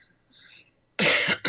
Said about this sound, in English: I've got this awful cough